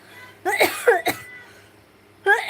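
A few sharp, raspy coughs close by: a quick pair, a pause, then another burst near the end, with quiet background between, during a live stream.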